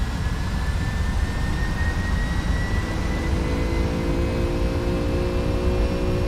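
Boeing 757-300 jet engines held at takeoff power in X-Plane 11, a loud steady roar with rising whine tones as the aircraft accelerates down the runway, no talk.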